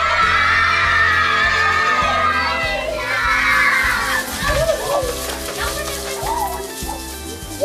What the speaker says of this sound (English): you're gonna scream, "Surprise!"